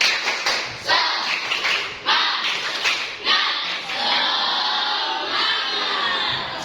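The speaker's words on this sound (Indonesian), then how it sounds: "Sekali lagi, tepuk semangat!" A classroom group does a rhythmic spirit clap, sharp patterned bursts of hand claps with thumps and children's shouts mixed in, lively and close.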